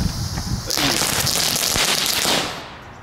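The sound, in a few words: crackling firecracker going off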